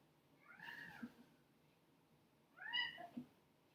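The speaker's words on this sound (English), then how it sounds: "Oh, kitty." A cat gives two distinct meows, the second louder and longer, in an otherwise quiet indoor room.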